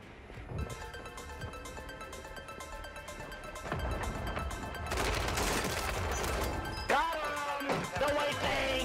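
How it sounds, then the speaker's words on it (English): Mortar strike explosions and rapid gunfire in the Warzone 3 video game, a dense burst of repeated shots and booming blasts that builds and grows louder over several seconds, with a few sharp impacts near the end. "Friendly mortar strike inbound"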